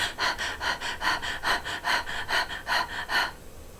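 A person demonstrates stressed, shallow breathing: about ten quick, even, airy in-and-out breaths in a steady rhythm, close and fairly loud, with no talking.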